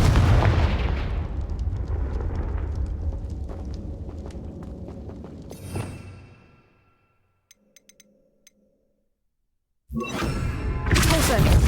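A Confringo fire-blast spell explodes in Hogwarts Legacy, a loud booming blast with crackling debris that decays over several seconds, then brief quiet with faint ticks before another heavy burst of noise.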